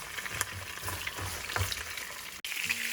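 Beef ribs pan-searing in a hot pan, a steady close sizzle and crackle with occasional pops and light stirring scrapes, a brief dip near the end.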